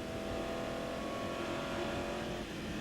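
TVR Tuscan race cars pull away from a race start in 1994, their engines roaring loud and continuous as they rev up together, and the pitch falls slightly toward the end.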